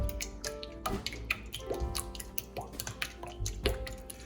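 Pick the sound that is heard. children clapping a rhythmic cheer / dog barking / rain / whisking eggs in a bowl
whisking eggs in a bowl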